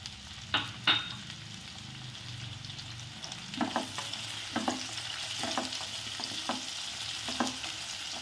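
Spring onion, onion and capsicum stir-fry on a high flame, giving a soft continuous sizzle broken by a string of distinct spatula taps and scrapes against the pan.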